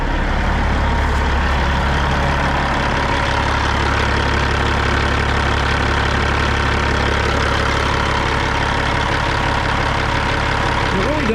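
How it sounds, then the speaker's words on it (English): Semi truck of an owner-operator idling at a home stop, its heavy diesel engine giving a steady, continuous low rumble close by for the whole stretch, with no change in rhythm. "As you can hear the truck running."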